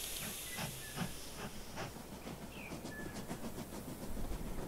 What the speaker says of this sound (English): Let's grab our remote here, set it to this one, this locomotive, and start her up.